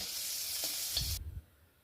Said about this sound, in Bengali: উচ্ছেটা আমি লাস্টে ভাজছি যাতে তেঁতো না হয়ে যায়।